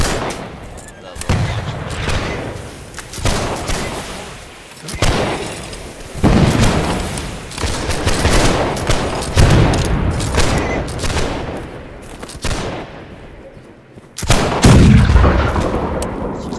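Rocket launcher blasts and rapid gunfire in a shooter video game, loud repeated booms and volleys in dense bursts across the whole stretch, broken by a few short lulls.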